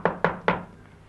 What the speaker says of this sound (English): the wolf knocked at 6 o'clock.